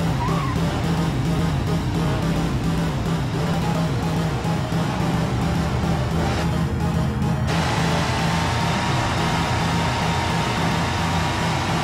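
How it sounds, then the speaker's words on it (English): A Burnside V8 Dualmatic drives in BeamNG.Drive, its engine a steady low drone with tire noise that brightens and loudens partway through, running continuously throughout. "He'll be driving the Burnside V8 Dualmatic."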